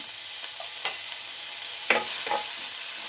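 Dried prawns fry in a pan for a curry with jackfruit seeds and tomato, a constant close sizzle broken by a few scraping stirs.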